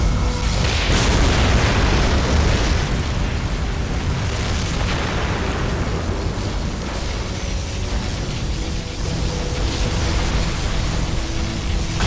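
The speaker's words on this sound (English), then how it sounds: "Particle cannon activated." Loud, sustained explosive roar of a particle cannon blast in C&C Generals Zero Hour, a dense rumbling boom holding steady for about twelve seconds with no pauses.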